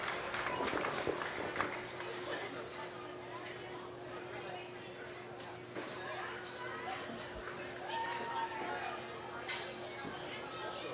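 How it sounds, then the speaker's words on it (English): A crowd at a junior gilts (pig) show gives a steady round of applause for belted exhibitors in Class 2, the clapping spread evenly through the clip over a constant low hum. "Let's give a nice round of applause once again for your belted exhibitors in Class 2."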